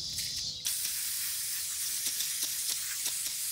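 Brake cleaner sprays onto a fine mesh screen in a loud, continuous aerosol hiss, close up, starting after a brief quieter moment and holding steady, with faint clicks underneath and no speech.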